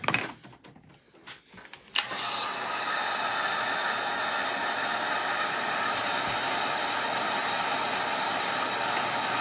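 A handheld heat dryer blasts air over fresh paint on a nutcracker craft, starting after a few soft handling clicks and then running as a steady loud whooshing hiss.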